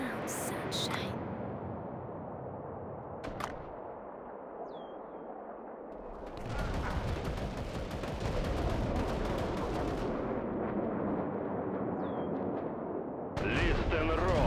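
Heavy booming Soviet artillery fire in a World War II real-time strategy game and rumbling blasts roll on continuously under a busy battle soundscape, with loud bursts and sustained noise throughout.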